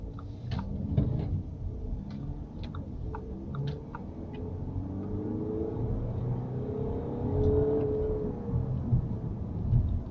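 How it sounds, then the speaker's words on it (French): A family car accelerates hard, its engine rising in a low, fairly distant rumble with shifting tones, interrupted by occasional light ticks and knocks, and no voices. "vous avez pu entendre que ouais, ça pousse assez fort cette voiture"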